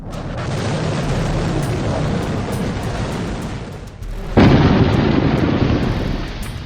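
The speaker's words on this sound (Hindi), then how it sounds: "भारत के दिल्ली क्लास के जंगी जहाज से ब्रह्मोस के नेवी वर्जन का भी परीक्षण हुआ।" Naval BrahMos missile launch from a Delhi-class warship, INS Delhi: a sustained loud roaring rush that dips briefly, then surges again with a sharp, heavier blast partway through.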